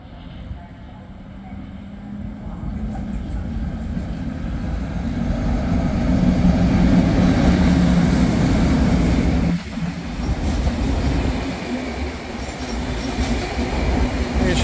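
A freight train departs as a Nyírség IC intercity, hauled by a powerful "Gigant" locomotive, arrives at Szolnok station. A loud, steady rail rumble swells and holds, with a brief dip midway before the wheel noise resumes.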